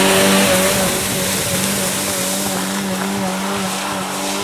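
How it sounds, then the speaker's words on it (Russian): An off-road car's engine revs hard and steady as it drives through a small pond, loud and close, with a sustained droning note and a rough wash of water and churning beneath it. "Набирает обороты."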